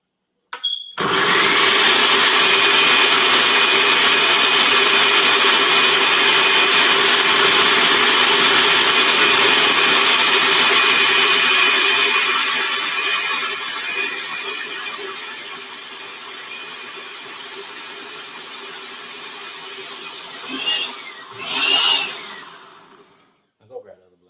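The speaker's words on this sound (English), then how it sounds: "If it don't go quick enough, I'm gonna go get the other blender though." A blender whirs loudly and steadily while breaking down sea moss, a continuous motor drone that fades after about fifteen seconds into faint rattles and a couple of short bursts near the end.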